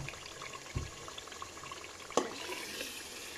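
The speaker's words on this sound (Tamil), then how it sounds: "அடி பிடிக்காமல் நல்லா தொடவிக்கிட்டே இருங்க" Coconut milk simmers and separates into virgin coconut oil in a pan, giving a faint, steady bubbling sizzle broken by a couple of soft spoon scrapes from stirring.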